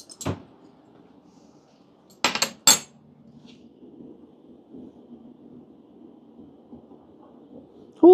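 A metal spoon clatters against dishes in two or three quick sharp clinks, with softer clinks at the start and end over a near-silent room.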